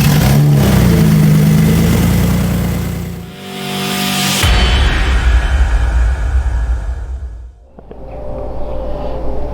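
A Lamborghini Diablo V12 fires up for the first time, loud and close, settling into a rough idle before rising revs swell and fall back, then another burst of throttle.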